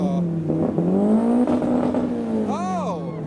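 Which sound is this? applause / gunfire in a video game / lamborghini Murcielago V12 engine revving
lamborghini Murcielago V12 engine revving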